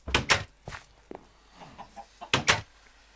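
Blocky chickens in a hardcore-mode Minecraft survival game cluck in short, sharp bursts, a pair of quick calls at the start, scattered softer clucks in the middle and another close pair near the end, with no talk over them.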